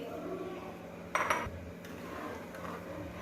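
A spoon clinks against a cooking pot a couple of times as sugar is stirred into plum chutney, brief faint metallic taps over a quiet background.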